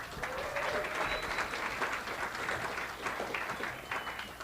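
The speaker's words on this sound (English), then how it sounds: "Let's give it up for Curtis and Josh one more time." A meeting audience claps and applauds for Curtis and Josh, a dense, steady wash of many hands clapping that fills the whole stretch, with a few faint whoops mixed in.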